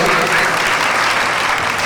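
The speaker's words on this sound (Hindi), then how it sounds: "जरा तालियों से उनको बधा है बक्साली" Dense, steady applause from an audience honoring children who performed at a Jain religious gathering with a tribal folk dance troupe, a continuous wash of many hands clapping close by for the whole stretch.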